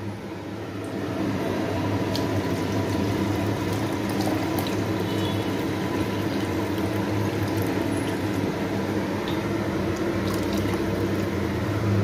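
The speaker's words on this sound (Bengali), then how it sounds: "এটার মধ্যে একটু গরম জল দিয়ে দেবো" Hot water poured into mung dal frying in a pan for khichuri with green peas, a steady loud hissing, bubbling wash of liquid that sets in after a second and holds unbroken to the end, with no talking.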